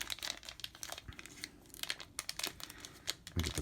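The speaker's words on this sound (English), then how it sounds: "I'll get the packet open." A plastic packet of Firefly Adventures board-game dice is torn open up close, with continuous crinkling, crackling and ripping and a few louder crunches toward the end.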